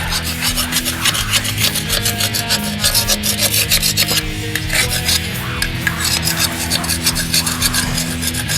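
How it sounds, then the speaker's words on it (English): Heavy rust scraped and rubbed off old vehicle metal ahead of rust converter, a continuous loud rasping grind that scarcely pauses, with no talking. "I'm just knocking the heavy stuff off to give a chance for the rust converter stuff to get a little better hold on what's left."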